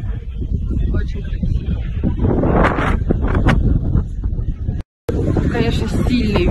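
Strong wind buffets the microphone with heavy rumbling gusts throughout, and a voice speaks briefly through the roar before a short cut in the sound.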